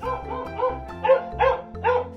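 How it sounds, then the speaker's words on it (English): A farm dog barks in a quick series of about six yaps at an even rhythm, close and clear over a background music track. "dog"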